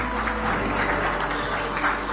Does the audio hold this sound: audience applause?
yes